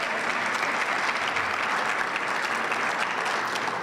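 A crowd at a Wells Fargo NeighborhoodLIFT program event in Denver gives steady, dense applause to affordable housing workers, a continuous patter of many hands with no voices rising above it.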